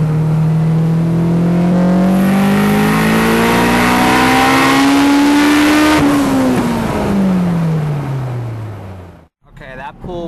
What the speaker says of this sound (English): Okay, my car is kind of loud, but I will show you.